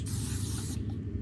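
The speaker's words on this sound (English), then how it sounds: "Spray her as soon as she walks in." Pepper spray fired in the horror video game Granny, a loud close hissing burst lasting under a second before cutting off, alone with no talk.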